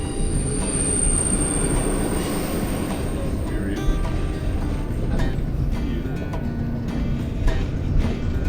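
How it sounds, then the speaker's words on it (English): A train rolls past on a siding at Glacier Station, Alaska, a steady close rumble of rail cars and wheels with faint squeals, continuous throughout, with a faint voice underneath. "that train is going to pass us on the left."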